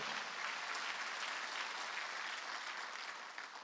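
A church congregation applauding steadily during a Wednesday worship service, a dense wash of clapping that holds at even strength and eases slightly at the end, with no speech.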